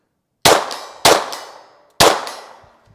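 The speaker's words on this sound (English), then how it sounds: "We'll finish this mag out on the man steels." Three sharp Glock 44 pistol shots spaced about a second apart, each followed by a bright metallic clang ringing from man-sized steel targets that decays slowly, with no talking.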